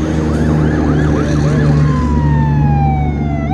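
A loud fire truck siren wails nearby in El Salvador, its pitch rising and falling in repeated cycles, then a long descending tone over steady engine rumble.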